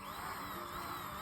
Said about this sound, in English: So, I'm gonna drill me a pinhole